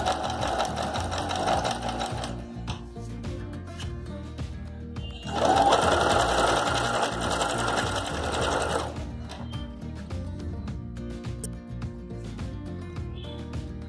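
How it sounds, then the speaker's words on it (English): A sewing machine stitches old denim jeans in close, loud bursts of rapid rattling, one run early and another in the middle, with quieter handling between and no talk. "you will have to stitch on the remaining 3 sides"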